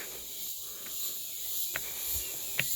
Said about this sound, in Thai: มีเสียงจักระจันด้วยค่ะ